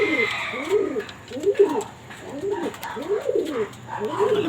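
Pigeons coo inside their loft, with loud, close, rolling calls repeating roughly every second in a steady rhythm and a few faint higher chirps between them.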